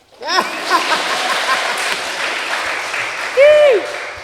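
Podcast guests and a small audience applaud, a dense wash of clapping that swells quickly and holds, with voices and cheering calls rising over it.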